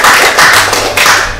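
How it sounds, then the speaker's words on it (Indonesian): An audience claps together during a live dialogue with the Kazidam XV/Pattimura in Ambon, a dense, fairly loud burst of hand claps filling the whole short moment with slight surges in intensity. "Tepuk tangan dulu dong."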